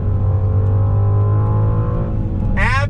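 A 2021 Mercedes-AMG GLE 63 S performance SUV pulls hard on throttle, its deep engine drone holding close and loud before a sharp rising whine sweeps up near the end.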